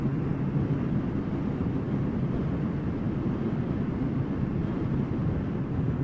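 Suzuki Katana 550 four-cylinder motorcycle engine running steadily, a smooth, continuous low rumble held at an even level throughout with no gaps or revving.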